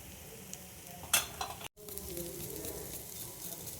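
Ground coriander, cumin and chilli powder sizzle in hot oil while a spoon scrapes and stirs them in the pan, a soft continuous hiss with a sharper clatter near the middle.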